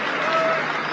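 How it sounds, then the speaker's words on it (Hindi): A group of men claps briefly in support at a gathering, a short dense burst of applause under a voice. "अगर भाइयों का समर्थन हो तो तालियां बजा देंगे।"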